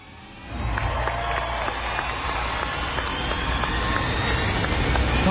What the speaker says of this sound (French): on l'applaudit encore une belle fois